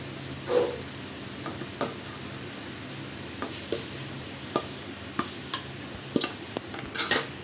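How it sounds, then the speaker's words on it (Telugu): Roasted Bombay semolina is tipped into a pan with the stove switched off and stirred for rava laddu, producing soft scraping and intermittent spoon-on-pan taps and clinks, close but quiet, without voices. "మనం ముందుగా ఫ్రై చేసుకున్నాం కదా ఈ బొంబాయి రవ్వ సో ఇది ఇందులోకి వేసేసుకోవాలి"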